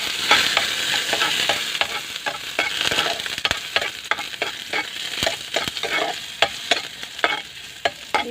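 Garlic and a little onion sautéing in a pan, a continuous crackling sizzle broken by frequent sharp scrapes and taps of a spatula stirring, close and without talk.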